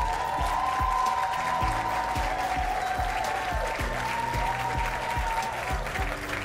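Applause at a Jamaican medal ceremony honouring an enthusiastic fireman, steady crowd clapping held at an even level throughout, with a low musical tone running faintly underneath.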